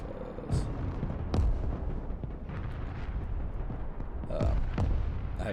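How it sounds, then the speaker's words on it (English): Tulpan mortar barrages firing in the Broken Arrow battle game, several deep booming blasts spread through the clip over a constant rumbling battlefield bed, loud and without talk. "I'm just kind of launching my tulpans and moving them, so just 1 barrage each"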